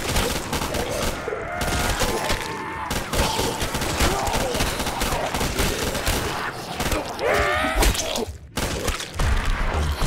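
Automatic fire from an MG2 machine gun in a zombies-style custom map of a video game, dense continuous bursts filling the whole stretch alongside blasts and clatter, loud and close, with a voice speaking briefly over it.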